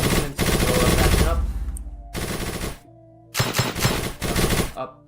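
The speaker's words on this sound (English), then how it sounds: "That's what's called semi-auto rifle. The big one, the one that kind of sounds like keys or coins." Semi-auto rifle fire in a competitive shooter video game match, heard as loud bursts of rapid shots in three separate volleys with short quiet gaps between them.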